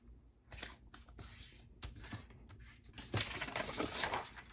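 Scissors snip through paper in a quick series of crisp cuts, close and fairly faint, with brief rustles of the sheet between them.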